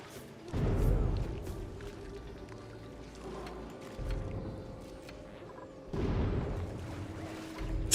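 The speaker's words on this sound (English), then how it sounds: "We hear all those explosions above us. Those are, by the way, the meteors." Meteors explode overhead in a colony-building game, with deep muffled booms and thuds rolling in at intervals over a quiet rumbling background.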